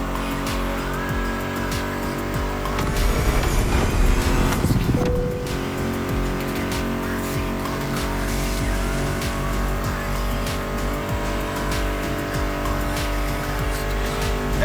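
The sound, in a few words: muscle car engines in video game The Crew Motorfest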